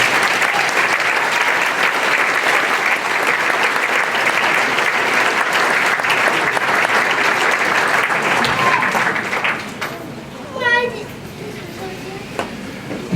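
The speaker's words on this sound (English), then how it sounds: "If we could please give them a round of applause." Round of applause from the audience at a building dedication ceremony, dense steady clapping that carries on for several seconds before tapering off, followed by a brief voice and scattered sounds.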